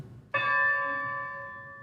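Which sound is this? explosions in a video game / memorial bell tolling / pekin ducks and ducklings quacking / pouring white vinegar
memorial bell tolling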